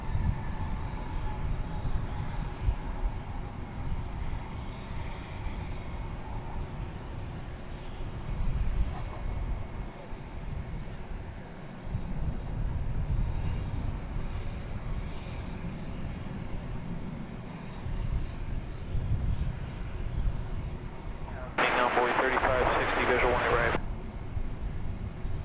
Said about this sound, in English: I believe what we're looking at here is American Flight 2409, about to depart for Fresno,